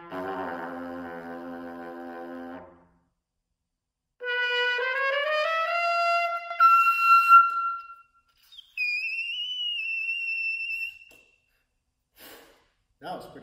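A trumpet: a brassy, mid-pitched passage opens the clip, then a bright, high sustained tone glides upward and holds, followed by another piercing high note after a short pause.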